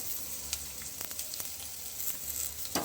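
Dried chillies and curry leaves fry in oil for rasam, a steady close sizzle and hiss broken by a few sharp spatula taps and scrapes, no talking.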